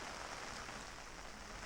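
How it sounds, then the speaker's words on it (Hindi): Rain falls steadily in Korba during severe monsoon flooding, a continuous even hiss of moderate loudness with no talk over it. "तो कोरबा में भी तबाही की बारिश हो रही है।"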